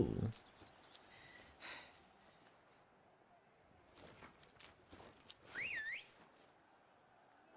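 In The Witcher 3: Wild Hunt, a character lets out a short, rising-and-falling whistle amid quiet footsteps and faint ambient game sound, the whole scene low in level.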